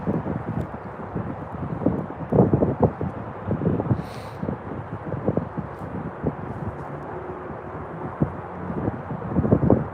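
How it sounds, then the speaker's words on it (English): Strong wind gusting across a frozen lake during winter walleye ice fishing, a steady rough buffeting roar with irregular thumps against the microphone, no talking. "the wind is really starting to pick up"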